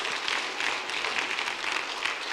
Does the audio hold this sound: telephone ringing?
no